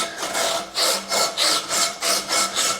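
A worn sanding belt puts a radius on an aluminium part for a pedal assembly, rasping in about six even, repeated strokes, close and steady with no talk.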